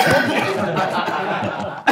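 A man coughs in a studio talk setting, a few rough, close bursts tangled with chuckling and voices, ending in a sharp final hack.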